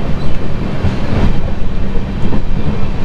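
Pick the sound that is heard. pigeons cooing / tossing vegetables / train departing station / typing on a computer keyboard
train departing station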